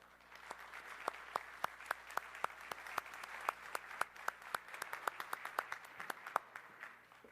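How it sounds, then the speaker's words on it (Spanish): Moderate audience applause greets a speaker taking the stage at a knowledge-economy forum in Peru, with distinct individual claps standing out sharply over a softer background of scattered clapping. "les pido por favor un fuerte aplauso para recibir a Federico Salazar"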